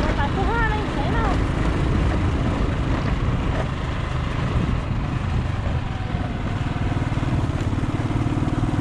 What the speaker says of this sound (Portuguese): Tá andando bem de moto já